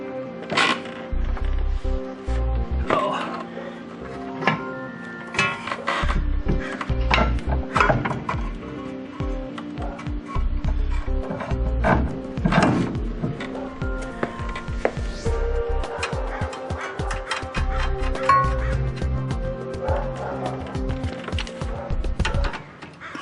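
Metallic clanks, knocks and ratchet-like clicks come from reinstalling a control arm bolt during an axle job on a 1997 Honda Civic, a close, irregular series of tool and part impacts.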